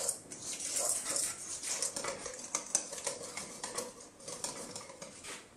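A utensil stirs a paste of water and batter in a bowl for a Filipino banana blossom omelette, making quick, continuous clicking and scraping against the bowl, soft and close, with no speech.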